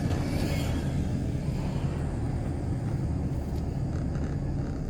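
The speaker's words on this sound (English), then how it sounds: "There's a car right behind me" Steady low road rumble from a car in traffic, with another car following close behind, a constant loud drone with no talk over it.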